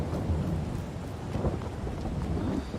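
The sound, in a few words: rain and thunder weather in video game Farming Simulator 22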